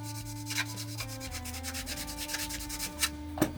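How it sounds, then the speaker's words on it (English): Soft, steady rubbing of a 220-grit painter's sanding block across Kydex, faint and close, with repeated light strokes and no talk. "They're for sanding, you know, once you paint everything, then you sand it down."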